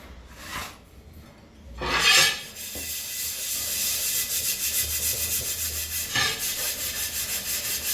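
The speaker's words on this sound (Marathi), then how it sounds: "मी ना याला तारीच्या घासणीने घासून घेणार आहे." A greasy iron tawa pan is scrubbed with steel wool: after two brief rasps, rapid continuous rhythmic scraping strokes run close and loud to the end.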